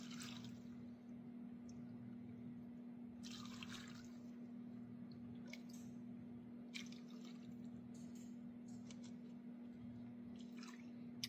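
Canning liquid poured into a glass jar, a faint, steady trickle and splash lasting about eleven seconds under a constant low electrical hum, with scattered soft drips and clinks and no talk.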